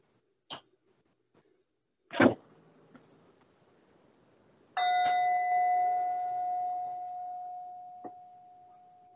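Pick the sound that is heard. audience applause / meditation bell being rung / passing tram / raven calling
meditation bell being rung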